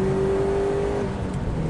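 Subaru Impreza WRX STI T25, a 430-horsepower tuned car, accelerating hard in 4th gear from 3,000 rpm, with a loud steady engine roar and a thin whine rising inside the cabin.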